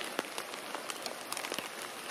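Rain falls on a garden rabbit enclosure as a steady, soft hiss with scattered close drips tapping on surfaces, fairly faint and with no voices.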